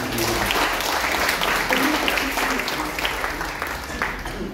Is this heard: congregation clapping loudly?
yes